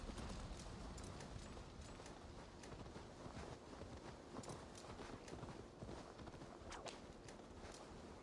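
Steady clip-clop of horse hooves walking at an even pace in the video game Assassin's Creed Valhalla, in a dark forest, over a dense, noisy background, continuous throughout.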